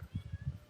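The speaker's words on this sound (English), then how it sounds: "we found a meowing cat up here." A cat meowing on a hillside by an old castle in Albania, short soft repeated calls close by, faint and without talk.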